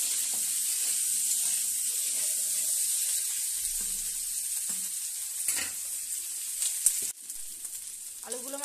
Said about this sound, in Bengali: এবার এই আলুগুলোকে খুব ভালোভাবে আমি লাল লাল করে ভেজে নেব।